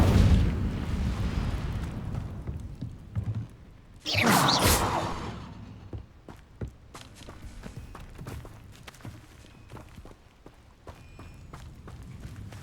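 An Incendio fire spell cast in Hogwarts Legacy bursts out as a single loud, roaring blast, followed by scattered footsteps and soft impacts in a quieter game scene.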